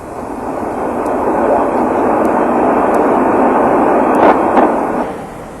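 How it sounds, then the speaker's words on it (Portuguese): An S-3 Viking jet serving as an aerial tanker passes with a loud, broad engine roar that swells and holds steady before fading, accompanied by faint clicks, with a narrator speaking over it. "Hoje, uma terceira versão do Viking substitui o Intruder como avião cisterna da esquadrilha."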